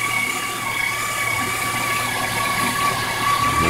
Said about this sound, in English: She's idling to 500 RPMs.